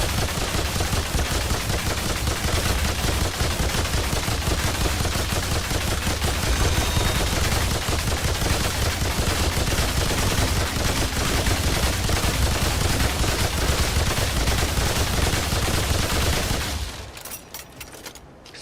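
Relentless rapid gunfire from the video game Remnant 2, a dense, steady barrage of shots at close range that runs without pause before cutting off abruptly near the end.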